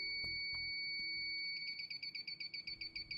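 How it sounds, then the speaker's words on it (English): After power-on, a GasMate refrigerant leak detector set to high sensitivity gives a few scattered clicks, then settles into a rapid, regular series of sharp, high electronic beeps. The beeps are close and clear, with no voices. "Start by powering on the leak detector and make sure GasMate is set to high sensitivity"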